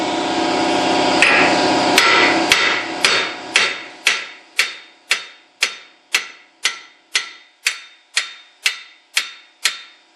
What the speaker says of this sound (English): then you're going to hit it with the hammer